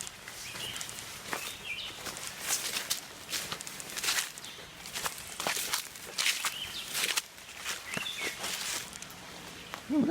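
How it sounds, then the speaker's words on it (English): Vine dragged along the ground behind someone on a winter outdoor walk, a continuous scraping rustle with irregular footstep crunches, close and steady throughout, with faint birds in the background. "I'm dragging some vine behind me"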